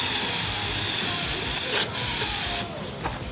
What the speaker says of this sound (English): spray it with brake cleaner.